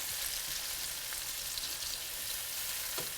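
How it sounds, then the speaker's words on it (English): Tomatoes saute in a pan over medium heat, giving a steady, even sizzle throughout with a few faint clicks and no talking. "while keeping the heat to medium, we want to allow these tomatoes to saute and break down"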